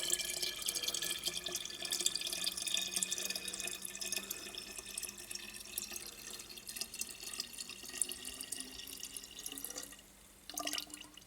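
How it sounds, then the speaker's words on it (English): Cold boiled water pours steadily into a vessel for homemade perry wine or cider, a continuous splashing trickle for about ten seconds before the stream cuts off and a brief splash follows. "This is cold boiled water."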